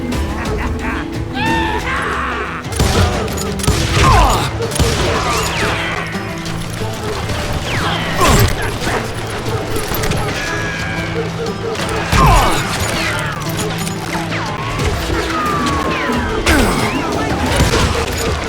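Gunfire and blasts erupt in a Call of Juarez Gunslinger shootout on PC, with repeated cracks and crashes scattered throughout amid a steady din, and shouted voices cutting in over the fight.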